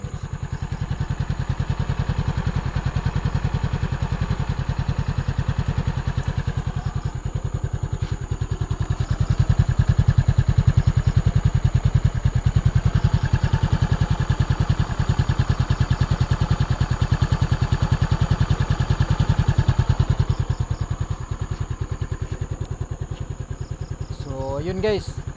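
An Easyride 150 motorcycle engine idles steadily up close with no knocking, a continuous low chugging rumble with a slight swell in loudness partway through.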